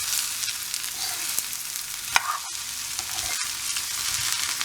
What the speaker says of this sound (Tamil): இதை வந்து அடியில் பெரட்டுறீங்க.